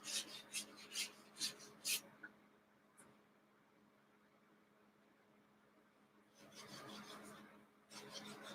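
Sandpaper rasps along the tissue-covered edges of a model Nieuport 17 airplane in a quick run of short, close strokes, then a long quiet pause before another burst of steadier rubbing and a final few strokes.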